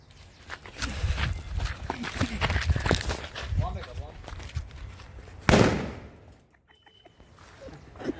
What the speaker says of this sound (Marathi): चला, बॉम्बच्या जोडीला काहीतरी खिलवाड करू, काहीतरी टेस्टिंग करू बॉम्बची.